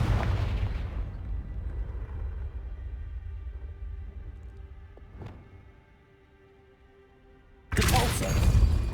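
A Confringo fire spell in Hogwarts Legacy goes off with a loud explosive burst, fading into a rumbling tail, with a sharp crack midway and another loud blast at the end.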